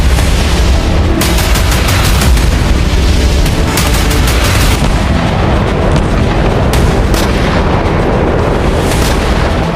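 Rocket fire and bombardment in the Israel-Hezbollah war: loud, dense, continuous rumbling booms with repeated sharp blasts and crackling bursts, close and overwhelming throughout.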